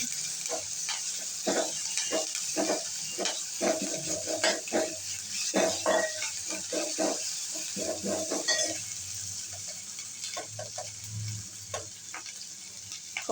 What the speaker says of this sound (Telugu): అల్లం వెల్లుల్లి పేస్ట్ ఒక హాఫ్ స్పూన్. కొంచెం పచ్చివాసన పోయేదాకా గోలించాలి.